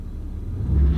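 Low engine rumble from a 2013 Audi S5 held in sport mode with the foot on the brake before launch, building slightly louder toward the end of the short stretch, steady and close.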